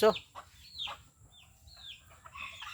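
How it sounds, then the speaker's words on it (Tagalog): Several chickens cluck and squawk in short, scattered bursts close by, over a faint low background hum. "Napatuka ko na yung mga manok ko."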